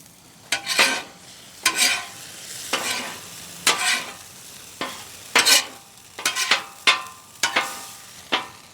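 A spoon stirs onions into chicken frying in a pan for cheesesteaks, with repeated scraping strokes at an uneven rhythm over a steady background sizzle, close and fairly loud, no voices.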